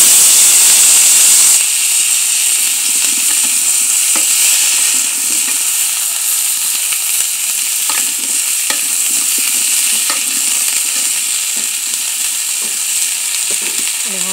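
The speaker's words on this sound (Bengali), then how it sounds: "এখন আমি সেই তেলেই কপিগুলো ভেজে নিব।" Cauliflower frying in oil in a wok, a loud continuous hissing sizzle with occasional spatter pops, close and steady throughout.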